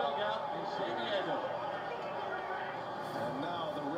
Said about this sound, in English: that noise you hear is the Rays dugout in San Diego